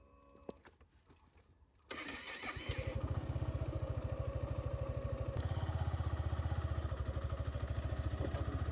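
A motorcycle engine starts close by after a quiet moment, then settles into a steady, loud, pulsing idle and run as the rider sets off from home toward a broken road.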